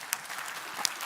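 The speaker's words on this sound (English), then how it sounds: "We need to clap more." Brief burst of audience applause at the Telematics Vilnius 2022 conference, a short scattered patter of clapping with a couple of sharper claps, moderately distant and fairly soft.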